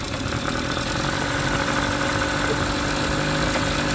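A 1988 Mariner (Mercury) 8hp long-shaft two-stroke outboard motor runs close by at a steady, loud idle with a continuous buzzing drone and no talking.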